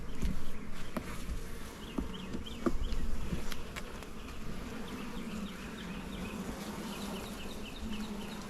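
Honey bees swarm loudly around an open hive during a mid-April inspection, a dense steady drone with many small buzzes darting past nearby, continuous throughout with faint clicks and knocks of frames being handled.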